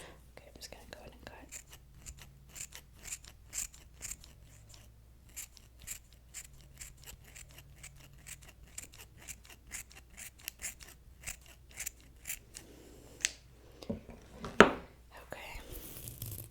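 Scissors snip through fabric while a glove is fitted, a steady run of short close crisp cuts with soft whispering between them and a few louder clicks near the end.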